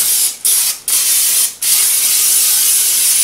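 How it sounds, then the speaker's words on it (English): Three short bursts of hissing non-stick cooking spray from an aerosol can onto a used pan, close up, each lasting a fraction of a second, followed by a steady background hiss. "you want to go ahead and spray your pan"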